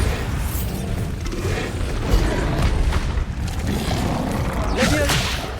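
In the Hogwarts Legacy video game, a Bombarda spell sets off booming blasts with whooshes and bursts amid dense, noisy combat effects, loud and continuous.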